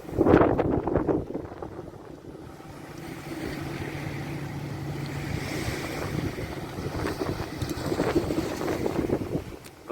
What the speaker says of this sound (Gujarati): તમે જોઈ રહ્યા છો બોટ ચાલી રહી છે હવે